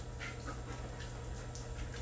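During an obedience training session, a dog whimpers softly and pants in quick breaths, faint against a steady, noisy background hiss, with no clear talking.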